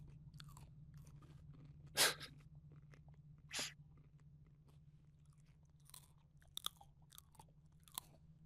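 Someone chews crunchy pizza topped with olives and peppers, with sharp close crunches at irregular intervals over a steady low hum and no speech.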